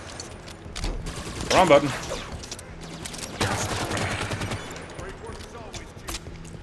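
A turret in the Halo 5 campaign fires in sustained bursts of rapid shots, mixed with other gunfire from the fight, while a voice talks briefly over the action.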